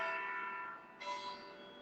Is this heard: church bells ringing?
yes